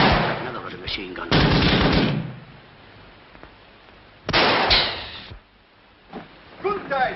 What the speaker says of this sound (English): Another ruddy machine gun.